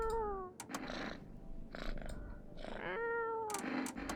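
A cat in a video game, heard as several drawn-out meows with rising and falling pitch, fairly close and clear, over game background noise.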